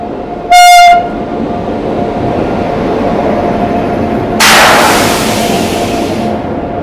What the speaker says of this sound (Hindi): हावड़ा का WAP7 लोकोमोटिव के साथ अपनी मिथिला एक्सप्रेस ट्रेन अराइव कर चुकी है समस्तीपुर जंक्शन के प्लेटफॉर्म नंबर 4 पे।